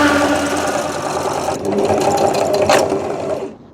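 A sewing machine runs fast while embroidering a farm logo, a loud, steady mechanical whir holding for about three and a half seconds before cutting out abruptly at the end.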